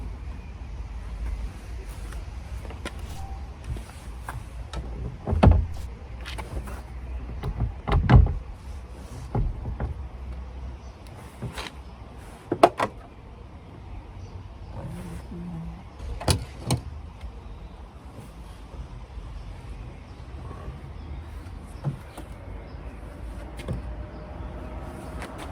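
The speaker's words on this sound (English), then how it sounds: "Right, I apologise for the noise. My road's so busy." Traffic from a busy road outside, passing vehicles rising and fading over a continuous low rumble, with several sharp louder knocks and swells standing out from the background.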